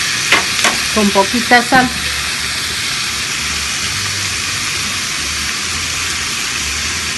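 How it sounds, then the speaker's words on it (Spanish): Beef steak frying in a pan, a loud continuous sizzle and hiss throughout, with a short stretch of talk near the start. "Ya vamos a poner el bistecito a que se fríe"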